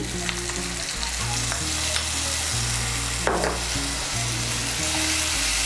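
Spice paste of coriander and chilli powder hits hot oil in a pan for cauliflower curry, giving a loud, steady crackling sizzle with a brief burst partway through, heard close and without speech.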